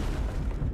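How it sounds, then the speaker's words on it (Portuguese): A closing explosion, a deep continuous boom with dense low rumble filling the whole brief moment, loud and close with no talking. "vamos fechar com uma explosão"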